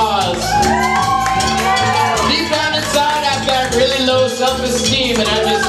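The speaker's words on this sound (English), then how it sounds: "Round of applause." A crowd at a live band show in the Rumpus Room shouts, whoops and cheers loudly and continuously, a dense roar of voices close to the mic with scattered yells on top.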